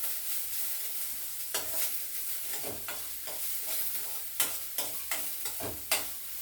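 Onions sautéing in a pan for green pea kolukattai, a steady sizzle broken by repeated scraping stirs of the spoon against the pan, close and clear with no talking.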